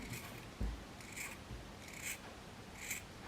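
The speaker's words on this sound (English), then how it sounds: "So we can just trim the edges of our tree so they're all nice and even." Scissors snip the macramé cord ends of a handmade Christmas tree decoration, evening out the edges. There are about three or four soft, crisp cuts spaced roughly a second apart over quiet room tone, with no talking.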